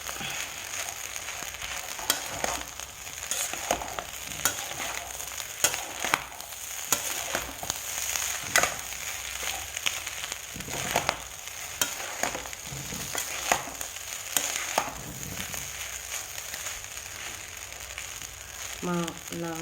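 Egg rice is stirred in a pan after chili, salt and coriander powder go in, with rhythmic scraping strokes and spatula knocks over a low sizzle, close and clear.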